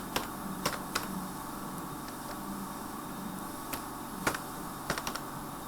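A computer keyboard clicks as a MySQL CREATE TABLE statement is typed, with sparse, irregular keystrokes over a quiet background hum.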